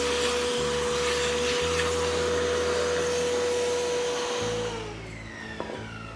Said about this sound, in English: Be careful not to vacuum up some of the bolts.